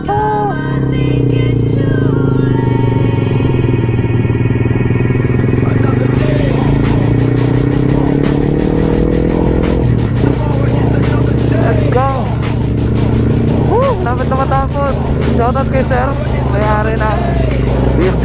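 A BMW motorcycle engine runs loud and steady nearby, holding a constant drone with small shifts in pitch, while voices and crowd chatter mix in around it.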